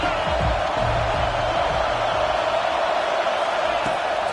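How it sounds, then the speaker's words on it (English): A football stadium crowd roars in a steady, far-off wash of cheering, constant and unbroken, with low rumbling underneath and a play-by-play commentator talking over it. "This crowd rising up, sensing that its defense needs some help"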